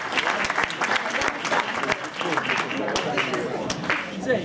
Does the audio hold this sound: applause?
yes